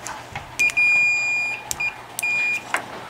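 A multimeter beeps while testing a microwave oven's thermal fuse for continuity, giving several steady electronic tones of varying length with brief clicks between them, close and clear in a quiet room.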